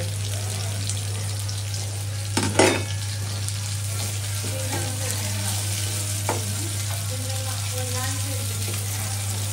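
Green chilies sizzling in a pan with onion and garlic, a steady close frying crackle throughout with a brief clatter of a utensil near the start and a constant low hum underneath.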